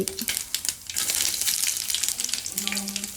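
Garlic and onion frying in hot oil with mustard seeds and cumin for a lady's finger (okra) fry, giving a steady, close hiss and crackle that runs through the whole moment with no talk.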